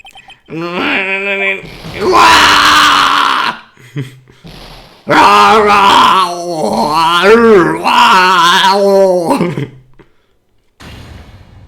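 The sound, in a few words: scream in Phoenix Wright: Ace Attorney video game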